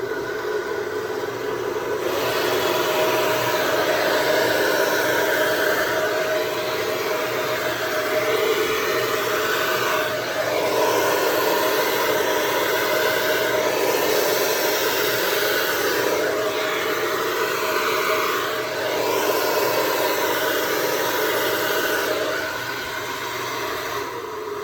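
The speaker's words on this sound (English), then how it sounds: "blow dryer." A blow dryer runs on an acrylic paint pour, giving a loud, continuous whirring rush that stays steady for over twenty seconds with only slight shifts in tone and no talk.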